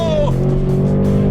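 A Ford Mustang races a Lucid in a drag race, its engine roaring loud and close in a brief, high-revving blast with a quick pitch dip near the start.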